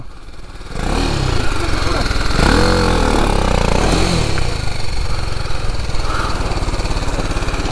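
An off-road motorbike revs hard on a rocky trail while its rear wheel skids, the engine surging and straining loudly and steadily close by, with voices talking over it.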